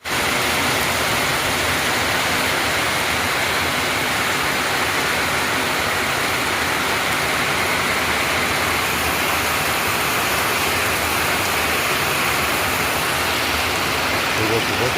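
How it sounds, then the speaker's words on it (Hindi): Heavy monsoon rain pours in Nepal in the morning, a dense, steady, loud hiss of falling water that carries on without a break. "सुबह सुबह बारिश"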